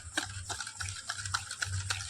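Spoon stirring powdered sugar and oil together in a steel glass for an eggless cake batter, giving soft rhythmic scraping strokes roughly every quarter second, close and quiet, with no talking.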